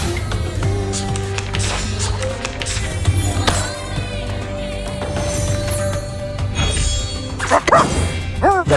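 A puppy in the video game Reverse: 1999 gives a series of yappy barks and yips over game music and effects, bright and close, with faint chime-like sounds in between.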